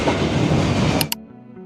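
A train passes through Train Street in Hanoi, close to homes, a loud rolling rumble that cuts off abruptly after about a second.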